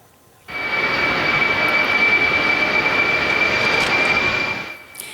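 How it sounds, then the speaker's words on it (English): A plane carrying evacuated passengers from a hantavirus-hit cruise ship takes off with a loud, steady jet-engine roar and high whine that starts abruptly and holds before easing off at the end. "This is new video into our newsroom of the first plane to take off"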